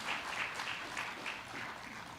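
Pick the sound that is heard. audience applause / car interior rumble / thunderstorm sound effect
audience applause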